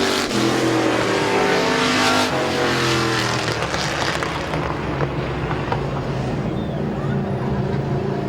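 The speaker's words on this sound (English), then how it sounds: "And off of turn number 4, heat race number 2 to Bill Aubil." Race cars in a heat race at a short oval speedway powering off turn four, a dense roaring pack of engines growing then fading into a steady distant drone, with a voice announcing over the noise.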